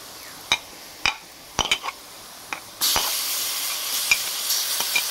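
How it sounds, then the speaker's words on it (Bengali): Onions fry in a pan until browned, with several sharp clinks of a spoon stirring against the pan before a steady sizzle rises and carries on, fairly close. "আম্মু পেঁয়াজগুলা বাদামি কালার করে নিচ্ছে, বাদামি।"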